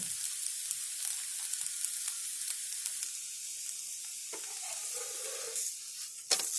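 Rice flour dhirde batter fries on a pan over a gas flame, a soft steady sizzle with faint crackles and a brief scrape near the end, close and quiet, no talking.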